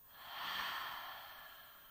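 A person breathes out slowly and deeply during a breathing exercise, one soft airy breath that swells and then fades, close and quiet with no talk.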